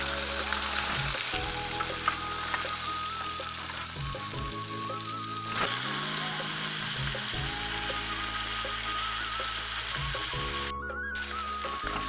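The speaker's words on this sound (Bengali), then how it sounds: "আমি মাছটা তেলের মধ্যে ছেড়ে দিচ্ছি, তেলটা গরম হয়ে গিয়েছে।" Fish sizzles in hot oil in a wok, a constant close hiss with a sharp burst partway through. Faint tonal background sounds sit underneath.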